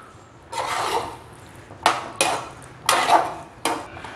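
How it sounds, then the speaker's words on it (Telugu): A utensil mixing cheese Maggi noodles with mayonnaise in a pan, heard as four bursts of scraping and clattering against the metal, close and moderately loud, with quiet gaps between strokes and no talk. "యాడ్ చేసుకొని ఒకసారి దీన్ని కూడా బాగా మిక్స్ చేసుకుంటూ కలుపుకుందాము."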